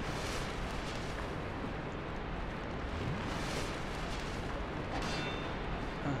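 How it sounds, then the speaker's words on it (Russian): A loud explosion in the video game Dark Souls, a dense sustained roaring blast of rumble and crackle that fills the whole stretch with steady intensity. "Взрыв, блядь."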